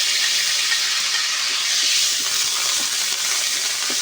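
Ground spice paste fries in hot oil in a wok, giving a steady, loud, bright sizzle that hisses continuously without a break.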